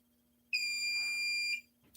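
Simplex fire alarm panel going into trouble after a Simplex smoke detector head is pulled off its wired base: a single steady, loud electronic tone lasting about a second, heard alone over a faint low hum.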